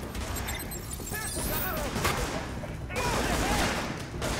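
Gunfire in the video game Tom Clancy's The Division on PS4, with rapid bursts of shots and clattering impacts running throughout, mixed with game effects and faint voices.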